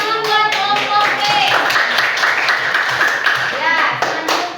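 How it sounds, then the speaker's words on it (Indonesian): Classroom applause for a presenting student group, a steady burst of clapping from many hands filling the room, with children's voices talking and calling over it throughout. "Tepuk tangan buat kelompok B."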